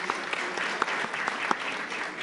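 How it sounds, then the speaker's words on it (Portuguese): Steady audience applause fills a book launch presentation of an essay on preventing disease and preserving health, dense even clapping held at a constant level throughout with no speech over it. "Bate palmas."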